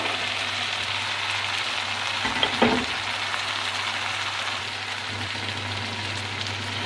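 Carrots tipped into a pan of already-fried fenugreek leaves for a mixed vegetable dish, giving a steady, close sizzle throughout with a brief rustling clatter midway as the pieces land.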